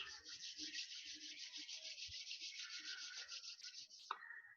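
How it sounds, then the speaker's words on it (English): Hands rub briskly together in a close, steady, rhythmic swishing friction lasting several seconds, ending with a soft pat. "Rub your hands."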